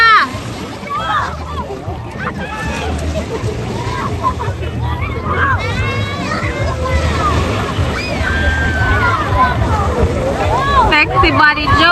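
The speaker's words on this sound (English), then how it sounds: "Ah, the waves got Jaden." Ocean waves wash and slosh at the beach in a continuous splashing roar, with overlapping chatter and shouts of children and adults throughout.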